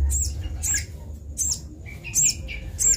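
A hand-fed sunbird chick squawks repeatedly in sharp, high bursts at a steady pace, close to the listener, with no talking.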